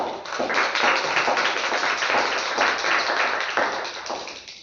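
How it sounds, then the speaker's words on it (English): A Toastmasters club audience at a Valentine's meeting gives a round of applause, a continuous wash of many hands clapping at moderate loudness that holds steady for several seconds before tapering off. "Please give her a round of applause."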